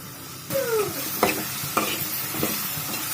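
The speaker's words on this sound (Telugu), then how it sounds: "ఉల్లిగడ్డలు బాగా వేగినాయి కదా, దోసకాయలు వేసుకోవాలి" Cucumber pieces tossed into frying onions with ginger, a sudden burst of sizzle followed by several scraping stirs of a spatula at an uneven rhythm; close and loud, no voices.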